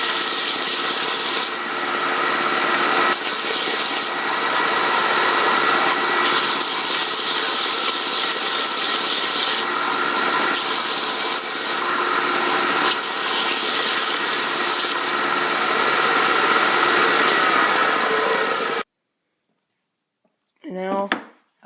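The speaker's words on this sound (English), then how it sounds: "I'm just going to sand them." Sanding small handmade wooden games, a loud continuous rasping scrub that runs steadily with brief pauses, then stops abruptly, followed by a short knock near the end.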